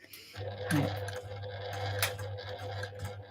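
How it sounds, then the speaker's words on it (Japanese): Sewing machine stitching fabric very slowly for a small triangular pot holder, a steady low motor hum running throughout with faint clicks and brief rustles of cloth on top, fairly quiet and close. "非常にゆっくり縫ってますけど。"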